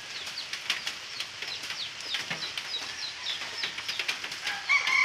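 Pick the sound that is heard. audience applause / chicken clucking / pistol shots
chicken clucking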